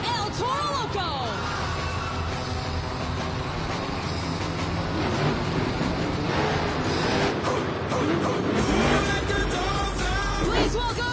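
Monster truck El Toro Loco at a Monster Jam event in Houston, Texas, its engine a steady loud roar layered with crowd and arena noise, swelling louder toward the end.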